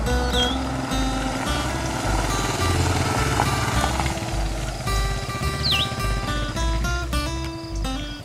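A KLR 650 dual sport motorcycle runs on a gravel mountain road in the Blue Ridge Mountains, its single-cylinder engine droning steadily up close with shifting revs and gear changes, plus a couple of brief high squeaks.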